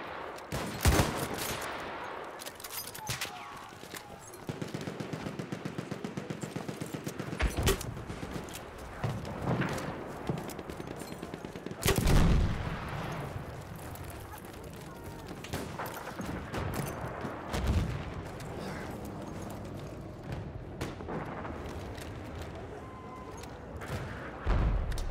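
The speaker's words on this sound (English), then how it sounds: "Machine gun!" Machine gun fire and other gunfire in the World War I shooter Battlefield 1, a dense, continuous battle din with bursts and loud blasts throughout, no speech.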